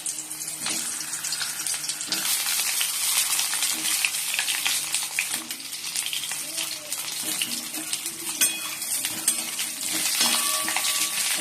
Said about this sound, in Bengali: কড়াইটা ধুয়ে কড়াইতে তেলও দিয়ে দিচ্ছি ও পটলগুলো ভেজে নেবো